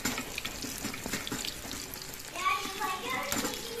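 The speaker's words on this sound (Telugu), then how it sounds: "సో ఇది ఆయిల్ హీట్ ఎక్కిందని నేను మిగతా బనానా ముక్కలు కూడా వేసేసాను. ఇంకా ఇది ఇప్పుడు ఫ్రై చేస్తున్నాను." Banana pieces frying in hot oil for banana chips, a steady bubbling sizzle with faint clinks and stirring, close by and continuous.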